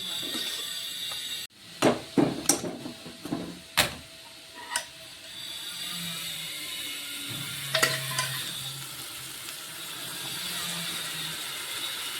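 Cooked minced meat sizzles as it is added to a spice tempering in a pan while a spoon clanks and scrapes sharply several times against the metal, followed by quieter steady frying.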